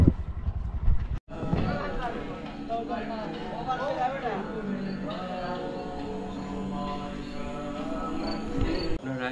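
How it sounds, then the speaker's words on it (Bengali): Crickets chirp steadily beside a small stream running past a resort at night near Sreemangal, a dense insect drone over trickling water, with faint voices in the background. "আপনারা এই মুহূর্তে যেই শব্দ শুনতে পাচ্ছেন এটি হচ্ছে আমার অবস্থানরত রিসোর্টের পাশ ঘেরা ঝিরির শব্দ এবং ঝিঝি পোকার শব্দ"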